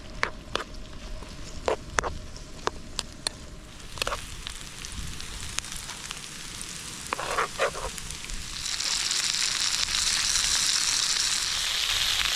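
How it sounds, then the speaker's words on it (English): Onions and burgers fry in a pan at a summer wild camp on Loft Hill. A soft outdoor sizzle builds louder toward the end, with scattered sharp crackles and pops early on and no talk. "so fry some onions, then I'll fry the burgers"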